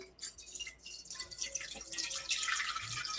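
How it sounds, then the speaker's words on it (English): Wine is poured into a clean cooking pot to make late medieval spiced wine. A soft, close trickle and splash runs continuously for a few seconds at a quiet level. "you're going to want to put about 1/5 or so of the wine into the pot"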